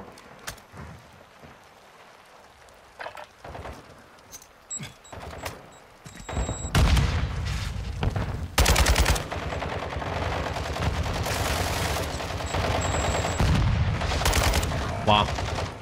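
Light machine guns in a multiplayer shooter first give a few scattered shots over quieter background, then sustained loud automatic fire takes over for the second half, with brief pauses between long bursts.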